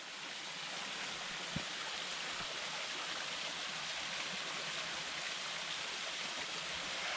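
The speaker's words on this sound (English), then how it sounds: "But here is waterfall number 6." A waterfall on the Devils Rock Trail gives a steady, faint wash of falling water, an even broadband rush with no voices over it.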